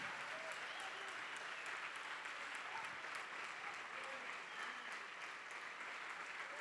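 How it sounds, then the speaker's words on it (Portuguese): A church congregation applauds steadily and continuously, a dense wash of many hands clapping at once with faint voices blended in. "Olha quanta gente vindo, vamos aplaudir mais, igreja."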